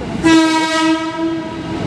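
A JR 205 electric commuter train sounds one long sustained horn blast close by at Jatinegara Station, Jakarta, with faint rail noise underneath.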